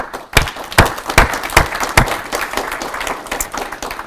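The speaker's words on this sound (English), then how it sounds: "I think it deserves another round of applause." Sparse applause from a small audience at a university Kenya-themed talk, after a presentation, a handful of separate claps at first, then thinning into scattered light clapping.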